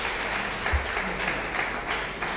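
Audience applause at a university science faculty conference, a steady, dense wash of many hands clapping at moderate distance, sustained evenly throughout with no talking over it.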